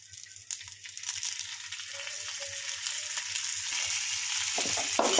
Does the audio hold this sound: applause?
no